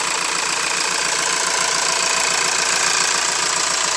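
A VW T5 Highline campervan engine ticking over at idle, a steady, even rumble recorded close up, constant in level throughout, with no voices.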